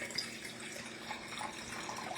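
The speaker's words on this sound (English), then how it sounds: "pour a glass" Châteauneuf-du-Pape red wine poured from a freshly opened bottle into a glass, a soft, continuous liquid gurgle at close range and low volume.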